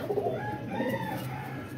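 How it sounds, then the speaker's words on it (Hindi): Soft, low pigeon cooing rises and falls in a short burst, close by, over a faint background hum. "ये देखें ज़रा, ये कबूतर हैं जी"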